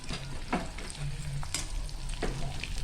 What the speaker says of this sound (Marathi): आणि त्यात आपण कालवं पलटी मारून घेतो